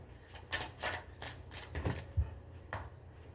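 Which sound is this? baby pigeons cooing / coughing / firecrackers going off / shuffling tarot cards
shuffling tarot cards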